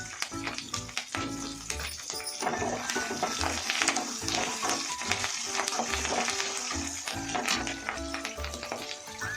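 Curry leaves and coriander frying in hot oil for a North Karnataka dish, a steady crackling sizzle with scattered pops and utensil taps as the pan is stirred.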